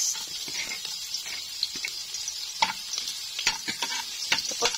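Garlic fries in a hot pan for a pork and kang kong stir fry, with a steady close sizzle broken by frequent crackling pops and occasional stirring scrapes.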